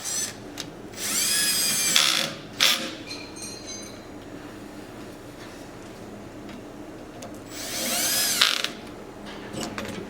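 A ratchet tightening brackets onto a concrete ping pong table, heard as two bursts of rapid clicking close by, one early and one near the end, separated by quieter handling.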